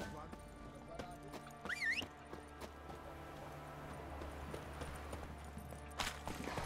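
Horse hooves clip-clopping in The Witcher 3: Wild Hunt video game, a steady trotting beat with a brief whinny partway through, set under game ambience and a voice talking.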